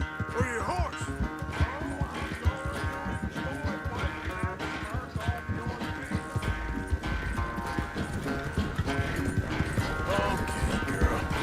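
Horse hooves clip-clop steadily with an occasional whinny in the Red Dead Redemption 2 video game, close and continuous, with a voice talking over the hoofbeats.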